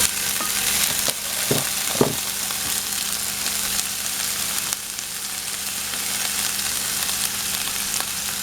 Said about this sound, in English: now we'll add the onions